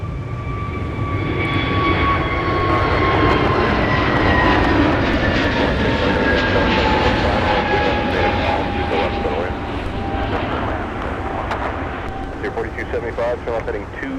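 Airliner nicknamed Percy the Panther taking off from runway 30 left in near-blizzard winter conditions, a loud sustained jet roar with falling whining tones that fades slightly toward the end, a voice talking over it.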